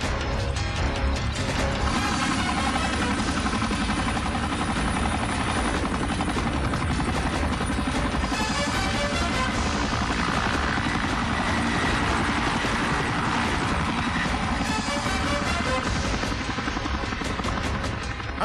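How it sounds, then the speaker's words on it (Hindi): A helicopter flies loud and close throughout, with steady rotor and engine roar and some mechanical rattling, heard alone in a tense action-film scene set at a helipad. "वो लड़का हमारे बेस से हेलीकॉप्टर लेकर उड़ गया है"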